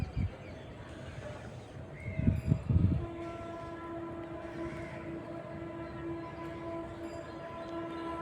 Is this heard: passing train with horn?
yes